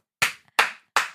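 Three sharp, evenly spaced hand claps ring out close and loud, each one fading quickly, with no voices around them.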